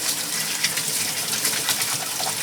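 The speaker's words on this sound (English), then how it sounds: "I'm going to just wash my hands quickly and just mix." Hands being washed under a running kitchen tap: a steady, close gush of water splashing continuously, with no voices.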